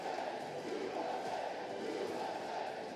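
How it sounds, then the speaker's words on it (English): An esports arena crowd at an Overwatch match in Anaheim, California cheers with a dense, sustained roar of voices, loud and constant throughout. "And the crowd on their feet."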